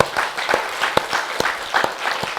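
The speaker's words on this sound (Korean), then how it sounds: "하나님께 영광의 박수 올려드리겠습니다" A church congregation claps together in praise during a sermon, a lively wash of applause with distinct louder claps punctuating it at a steady pace, alone without talk.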